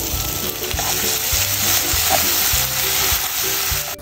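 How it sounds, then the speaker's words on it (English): Vegetables for japchae sauté with soy sauce in a hot pan, a close, continuous sizzle broken by repeated stirring scrapes, ending abruptly, with no speech. "So after I saute it, I put 3 tablespoons of soy sauce."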